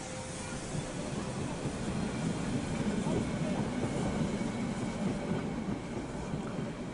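The 100-year-old Molli narrow-gauge train stands at a station, a steady low rumble and hiss of the waiting train with faint rail noise, moderately distant, with people talking in the background.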